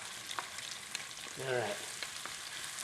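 Chopped onion hits hot olive oil and butter in a pan over high heat, giving a continuous close sizzle that swells briefly as the pieces go in. A short spoken remark sits over it.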